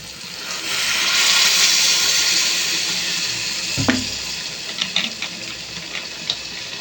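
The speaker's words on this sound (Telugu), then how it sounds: "ఒక చిన్న గ్లాసు వాటర్ అనేది వేసుకుందాం" Water from a small glass poured into a pan of brinjal curry with eggs, a sudden splash around the middle followed by a few light sloshes and bubbling sounds over a steady background hiss.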